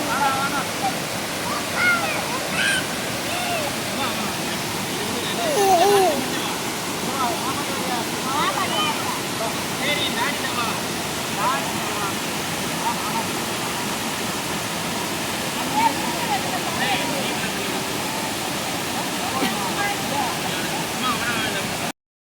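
A waterfall on the way to the Cameron Highlands in Malaysia roars in a steady broadband rush throughout, with voices talking faintly over the water.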